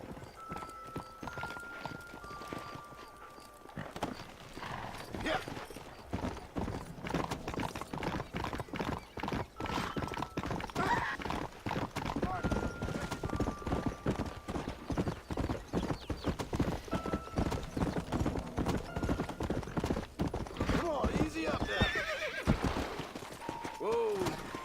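Steady clip-clop of horse hooves walking at an even pace in the video game Red Dead Redemption, with a horse neighing a few times and a voice talking over it.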